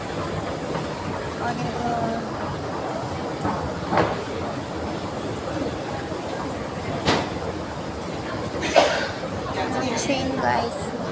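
MRT train at Ion Orchard station in Singapore: a steady rumble of rail traffic and station ambience, with occasional clacks and a sharper thump, heard under someone talking and background chatter.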